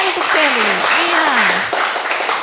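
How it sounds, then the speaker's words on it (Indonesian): Applause for a student in a classroom, a steady wash of children clapping that fills the room for a couple of seconds while a voice speaks over it. "tepuk tangan untuk Sherly."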